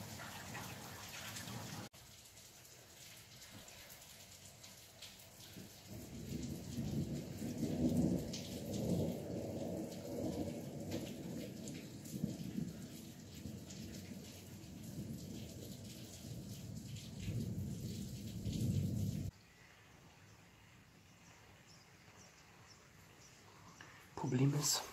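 Strong thunderstorm with steady rain and a long, loud rumbling roll of thunder swelling through the middle, then rain continuing more quietly; voices are heard at times.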